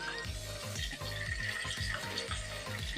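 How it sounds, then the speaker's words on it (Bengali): Stingray fish frying steadily in a hot pan, a continuous close sizzle and bubbling with faint scraping or stirring throughout, no talking. "মাছটাকে যে লাল লাল করে একেবারে ভেজে নিচ্ছি"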